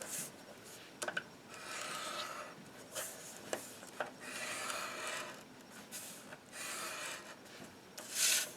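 A scoring tool drags across a paper card in short, soft scraping strokes, several quiet rubs repeated in a close, steady rhythm.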